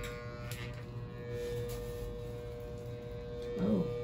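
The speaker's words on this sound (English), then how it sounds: "I start with this razor, a clipper." An electric hair clipper buzzes steadily while shaving a head, a close, continuous low hum running throughout with a brief louder swell near the end.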